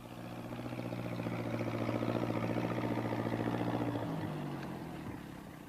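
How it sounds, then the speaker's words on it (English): Farm tractor driven at top speed along a road in a rural village, a steady, loud motor drone with a rhythmic chug that holds evenly, then shifts pitch and eases off near the end. "He's going to try to get through with his tractor."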